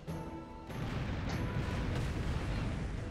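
Cannon fire in the Ukrainian pirate video game Tempest: a dense, rumbling barrage of booms that swells after a brief quieter opening and stays loud and continuous.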